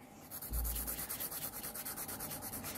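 A nail file rubs off semi-permanent nail polish in quick, even back-and-forth strokes, a soft close scratchy rasp repeating in a steady rhythm.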